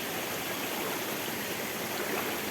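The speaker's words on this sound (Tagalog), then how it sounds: "yun na talaga ang falls niya doon sa baba" Dense, constant rushing water of the Tai Tam waterfalls in Hong Kong fills the scene, a loud continuous roar of falling water with no breaks.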